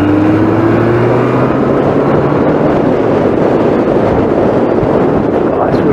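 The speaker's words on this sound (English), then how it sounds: "Windy as well." Strong, bitterly cold wind buffets the microphone in a constant loud roar, with a faint Yamaha XJ750 motorcycle engine hum underneath.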